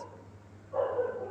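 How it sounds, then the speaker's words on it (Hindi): Several dogs start barking in the second half, a moderately faint burst of yapping over a low steady hum. "यार ये कुत्ते इसी टाइम पे भौंकने लगेंगे।"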